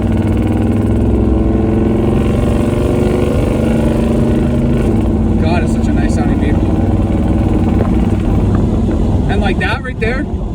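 Loud, close engine of a 1985 Chevrolet K10 truck pulling away under normal acceleration, its steady rumble rising gradually in pitch, with brief rattles and clanks near the end.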